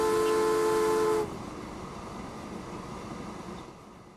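A small steam tank engine in Transport Fever 2 gives a short, loud whistle blast. It cuts off sharply and leaves a low, steady rail rumble that fades slightly at the end.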